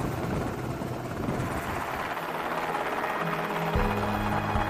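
A helicopter flies overhead with a steady, loud rotor roar and broadband engine noise throughout, no voices present.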